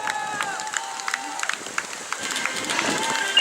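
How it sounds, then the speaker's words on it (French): Audience applause at the finish area of a 2018 Fuvelaine race, a steady patter of clapping from a crowd, with a voice speaking over a loudspeaker throughout. "Allez, encore les applaudissements"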